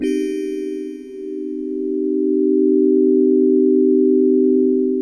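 A steady, soft FM synthesizer tone with a slow release, from a tiny DX7-style M0SS 416, holds for several seconds after a brief bright attack, swelling gently and sustaining smoothly without fading out.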